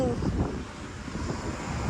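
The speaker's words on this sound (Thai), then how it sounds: "มื่อนี่ลม" Steady outdoor wind rumbles and buffets the microphone throughout, a constant roar under faint conversation at a watermelon stand.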